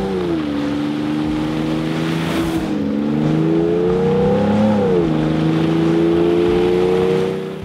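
A truck's exhaust roars close and loud as the engine revs, its pitch climbing, dipping and climbing again over a sustained, throaty drone.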